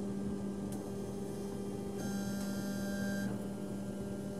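A Chinese K40 laser engraver cuts through 3mm mahogany, giving a steady electrical hum with fan drone and a brief higher whine partway through, with no voices.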